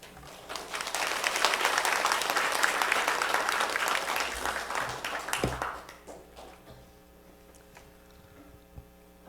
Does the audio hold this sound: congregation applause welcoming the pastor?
yes